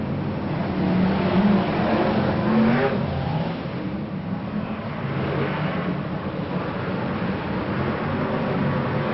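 BriSCA Formula 1 stock cars racing into the home straight at Boston in 1992, making a continuous engine roar that swells and fades slightly across the whole stretch, with no talking.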